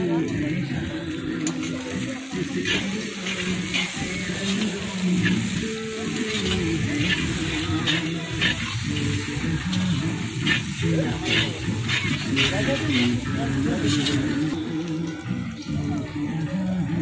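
Tomatoes tipped into a pan of spiced chicken with ginger-garlic paste, chilli, Kashmiri chilli, cumin and coriander powders, giving a strong steady sizzle and hiss with occasional stirring, close and continuous, while a person talks over it.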